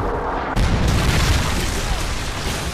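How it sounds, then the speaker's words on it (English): A Predator missile strike in Modern Warfare 3 lands as a sudden heavy boom, followed by a loud rumbling blast that fills the rest of the moment. "Friendly Predator missile inbound."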